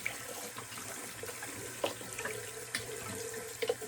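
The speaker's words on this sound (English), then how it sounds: "now rinse with cold water, kind of closing down those pores" Cold tap water runs steadily into a sink for rinsing the face after a wet shave, a continuous close splashing stream with a few louder splatters as hands move through it.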